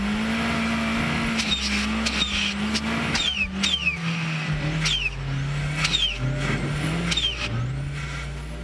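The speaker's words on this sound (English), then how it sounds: "Just listen to the wastegate of this little Suzuki screaming and popping as they tackled task" A small Suzuki 4x4 labors through sand dunes, its engine droning while the turbo wastegate lets out repeated sharp whistling shrieks and pops, loud and fairly close.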